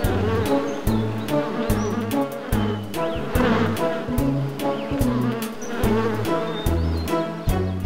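Cartoon bees buzz loudly and continuously around a honey-gathering scene, a dense insect drone with wavering pitch, overlaid by steady rhythmic music.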